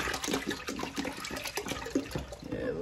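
A liter of bleach and water splashes over big seashells, an irregular gurgling pour with uneven bursts and spatters, close by.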